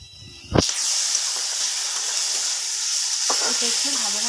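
Chopped tomato and onion hit hot oil in a pan with a sudden sharp burst, then settle into a steady, bright hissing sizzle, with a few soft stirring scrapes near the end.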